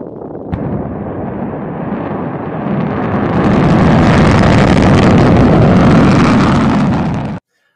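Falcon 9 first-stage engines igniting and roaring, heard from an aft camera on the rocket; a sharp onset then a broad, rushing rumble swells steadily louder and stays loud before cutting off abruptly.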